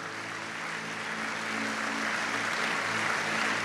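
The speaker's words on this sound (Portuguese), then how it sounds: "E dê uma salva de palmas para as mulheres nesta noite" A church congregation applauds in honour of the women, a dense, steady wash of clapping from many hands that holds evenly and swells slightly over several seconds, with no voices standing out.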